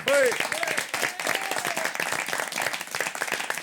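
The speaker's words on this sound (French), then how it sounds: "je vais vous demander de les applaudir, nos 2 candidats du jour, Michel et Fabien." A studio audience at a French game show claps for two contestants, a brief burst of applause that continues under a host's voice.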